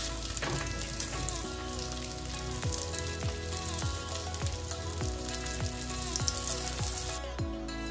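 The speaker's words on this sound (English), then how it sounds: "Cook the burger patty over medium heat." A burger patty fries over medium heat in melted butter, giving a steady, close crackling sizzle that runs without a break, with no voices.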